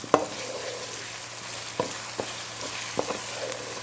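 Potatoes frying in a pan with garlic, ginger and coarsely ground green chilli for a spinach-and-potato dish, a soft steady sizzle broken by a few sharp clicks of a utensil against the pan, no talking.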